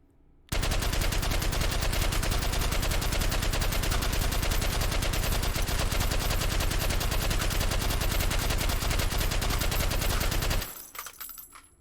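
A suppressed M60 machine gun fires in the VR shooter H3VR, one long unbroken burst of rapid automatic shots lasting about ten seconds before cutting off abruptly.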